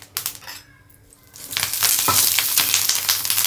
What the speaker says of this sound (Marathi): आता शेंगदाणे आणि हिरवी मिरची हे भाजून घेऊ।